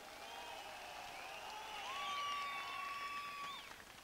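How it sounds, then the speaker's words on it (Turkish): Crowd applause and cheering at an outdoor political rally in Antalya, a broad sustained clapping wash with whistles and shouts rising over it, heard from a distance and fading near the end. "bir kuvvetli alkış alalım bakalım"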